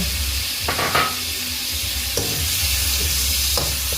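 Red Atlantic shrimp fry in garlic oil in a pan, giving a continuous sizzle with a few scraping stirs of a utensil and no talking.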